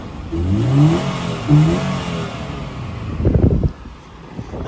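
A Toyota 86 engine revs twice in quick rising bursts under acceleration, up close and fairly loud, followed by a rougher rumbling pass before it settles back.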